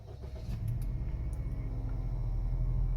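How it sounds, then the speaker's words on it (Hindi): A Daihatsu Move being driven, with a steady low engine and road rumble inside the car that rises slightly as it gets moving and then holds even. "I'll start the car, I'll take the car outside, I'll drive the car around"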